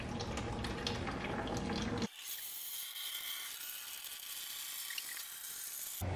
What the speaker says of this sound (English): just crack off the sump bung a little bit, all the water falls out